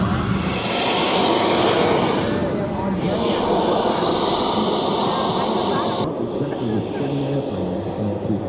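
A steady jet engine roar from a 1:4.5 scale CARF-Models F-4 Phantom II model jet at an air show, loud and continuous, with a crowd's chatter and voices mixed in underneath.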